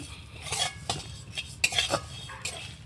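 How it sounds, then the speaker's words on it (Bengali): Dry whole spices roast in a pan, with a spoon scraping and stirring in short, close strokes and light clinks of metal over a quiet background. "আমি শুকনো খোলা এই মশলাগুলো সব ভেজে নেব"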